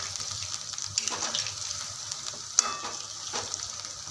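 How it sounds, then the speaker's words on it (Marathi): Batter-coated chicken 65 pieces deep-frying in oil give a steady bubbling sizzle, with a few spoon clinks and stirring sweeps as they are turned; moderately quiet and close, no talking. "दोन मिनटानंतर हे क हलवून घ्यायचं आता हे आपण हलवून घेऊया"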